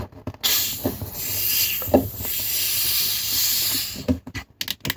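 A bottle of Tutti Frutti Winter Mix soda being opened, giving long loud hisses of escaping gas that come in a few sustained bursts, broken by short gaps and handling noises.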